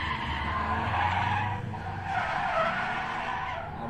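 A car in a gymkhana test swinging around cones, its tyres skidding and squealing loudly under a revving engine, with a short break mid-way before the slide resumes; no talk.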